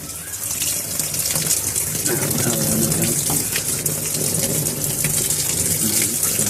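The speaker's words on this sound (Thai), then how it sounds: "กดสตาร์ทเลยครับ โอเคน้ำเข้านะครับ" Water pours steadily into a Samsung WA85G5 top-loading washing machine as it fills, a loud continuous gushing rush with no talk over it.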